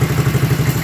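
Close, steady putter of a warming Honda Dream motorcycle at idle after a carburetor repair, with quick even firing pulses and a faint clatter in a brief snippet.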